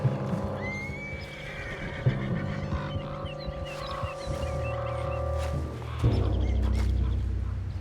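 A horse in the video game Red Dead Redemption 2 whinnies loudly over a steady low hum, followed by hoof clip-clops and some shuffling.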